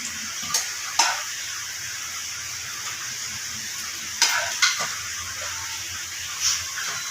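Semolina pakoras fry in a pan of hot oil with a steady, moderate sizzle, and several sharp clinks of a utensil against the pan stand out above it.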